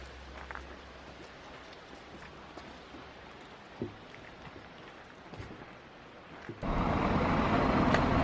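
Steady rain patters in the background with a few faint clicks at a roadside stop near Milford Sound, New Zealand, then a sudden louder, denser rush of rainfall near the end.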